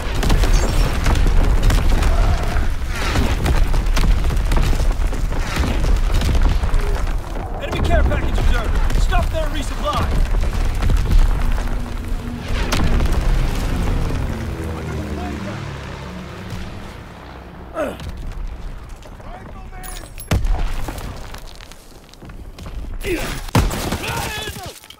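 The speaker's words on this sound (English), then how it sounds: "Incoming enemy artillery!" Enemy artillery shells explode in Call of Duty WWII, a dense barrage of heavy booms and rumbling blasts with gunfire, later thinning to scattered thuds and another loud impact, while voices shout over the chaos.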